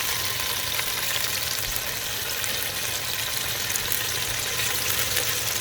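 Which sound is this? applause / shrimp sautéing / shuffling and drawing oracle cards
shrimp sautéing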